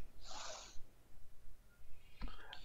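A sharp, breathy sneeze bursts out close by, followed by quiet breathing and then a short snort or second snuffle near the end.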